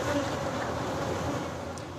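Honey bees buzz in a dense, steady drone, close and continuous, with no voices over them.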